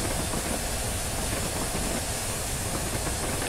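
Flying Scotsman steam locomotive on the Scottish West Line route in Train Simulator 2015: a steady, dense roar of steam hiss and rolling rail noise, continuous and loud with no talk.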